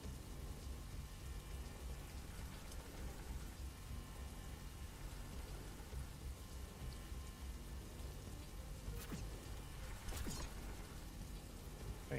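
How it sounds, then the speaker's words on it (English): Steady rain falls in the game Riftbreaker, a dense continuous hiss across the whole stretch, broken by two short sharp crackles near the end. "It's raining."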